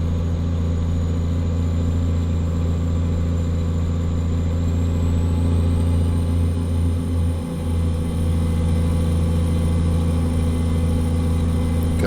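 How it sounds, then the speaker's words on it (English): A Cummins NTC Big Cam 350 diesel truck engine in American Truck Simulator drones steadily and loud, a deep continuous rumble with strong low harmonics and a brief dip around the middle, alone without talk. "I know that this engine's noisy"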